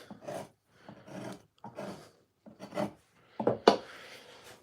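A Stubai number 3 gouge, marked as a 4, carves into wood in a string of short rasping strokes with brief pauses between them. The final cuts sound louder and sharper, close up and alone.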